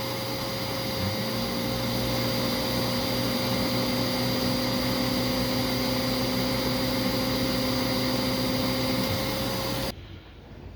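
A Simplicity Verve vacuum cleaner runs with its power nozzle switched on, a loud, steady droning hum with a constant whine that stops abruptly near the end.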